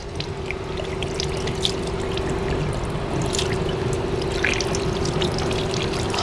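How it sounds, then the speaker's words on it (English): Ozonated water runs steadily from an automatic spout at an outdoor hand washing station, a continuous close trickling pour with a faint mechanical hum underneath and no talking. "the water is bubbling away down here and it becomes the ozonated water"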